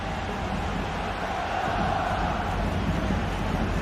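A stadium crowd in a football video game roars in a steady, dense wash of cheering that holds at an even level throughout, with no sharp peaks.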